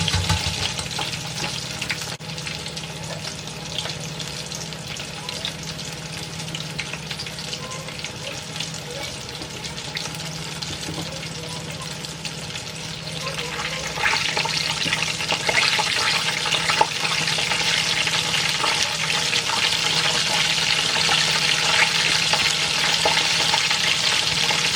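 Oil sizzles steadily in a frying pan during preparation of a mini fish burger, a constant close hiss that grows louder and brighter about halfway through.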